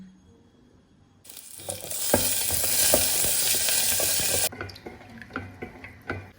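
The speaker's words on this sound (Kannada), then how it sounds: "ಸ್ವಲ್ಪ ತುಪ್ಪ ಒಂದು ಸ್ಪೂನಷ್ಟು ತುಪ್ಪ ಹಾಕೋತೀನಿ" A spoonful of ghee hitting a hot pan, a sudden loud, bright sizzle that holds steady for about three seconds, then drops to faint crackles and light clinks of a spoon.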